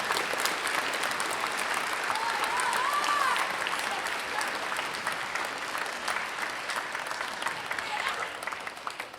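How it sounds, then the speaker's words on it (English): Audience applause at a school Veterans Day program: steady clapping from a seated crowd that holds for about nine seconds, dense and fairly even, swelling slightly in the middle before tapering. "Let's all please give them a very warm applause."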